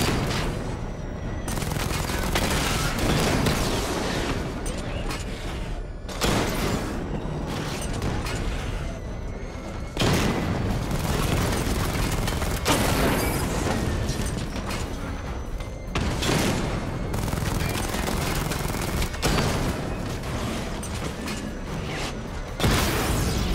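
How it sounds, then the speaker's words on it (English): Batmobile missile barrage in the game Batman: Arkham Knight, a dense, loud stream of launches and explosions with mechanical whirring and clanking, broken by several sharp bursts spread across the stretch. "Charge up missile barrage to level 2 and destroy 4 active targets to complete diagnostic test."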